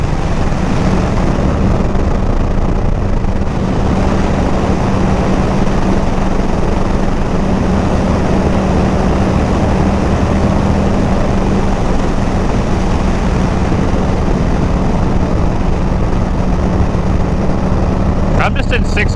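A 2023 Indian FTR 1200 Carbon R motorcycle cruises in sixth gear, its engine droning steadily under heavy, constant wind rush with a faint talking voice.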